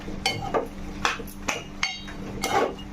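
Chicken biryani masala with mint and coriander being stirred in a metal pot, with about six sharp clanks and scrapes of the spoon against the pot at an irregular pace, close and fairly loud.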